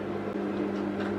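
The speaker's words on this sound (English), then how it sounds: "I'm going to pop them in the microwave a bit and turn it on for 10 seconds-ish" A microwave oven heating marshmallows runs with a steady, close electrical hum and fan drone, unbroken and without talk.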